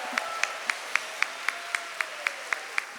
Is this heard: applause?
yes